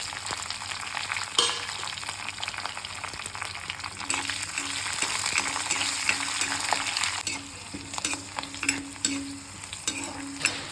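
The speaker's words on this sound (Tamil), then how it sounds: "எனக்கு பச்சை மிளகா, நான் போட்டுருக்கிற இஞ்சி, வெள்ளை பூண்டு எல்லாமே பொரிஞ்சு வந்துருச்சு" Green chillies, ginger and garlic crackle in oil in a pan under a constant dense sizzle. Repeated utensil scrapes and taps against the pan come through clearly, and no one talks.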